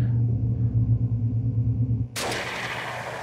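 Video game gunfire hits as a deep rumbling boom through the first two seconds, then gives way to a sudden sharp hiss.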